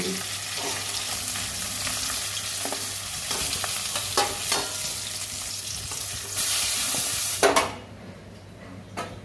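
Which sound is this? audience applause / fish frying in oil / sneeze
fish frying in oil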